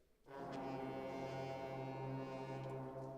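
A beginning school band's low brass section swells in on a held C and sustains it steadily, rich and buzzy, several instruments blending on one pitch.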